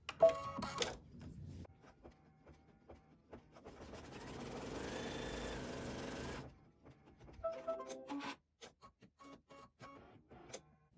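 An embroidery machine stitches the tack-down line of a fabric appliqué heart, starting with short whirring bursts, then a steady mechanical hum for a couple of seconds, then clicks and stops, faint and close.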